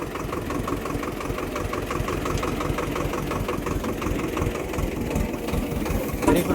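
A tractor engine idles nearby with a steady, low, rhythmic chugging that holds at an even loudness throughout.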